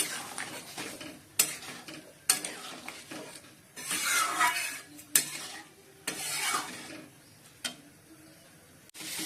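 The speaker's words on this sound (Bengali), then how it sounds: "বন্ধুরা, আলুগুলো ভেজে নিচ্ছি" Potatoes fried in a pan with cumin and bay leaf, heard as sizzling bursts broken up by sharp metal spatula clinks and scrapes against the pan, fairly close and steady over several seconds.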